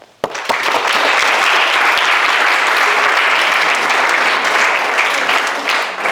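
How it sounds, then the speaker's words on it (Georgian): A crowd at an award ceremony for a drummers' group claps in sustained, dense applause, loud and close, starting abruptly and holding steady for several seconds with no talk. "ტაში გვეკუთვნის ყველას."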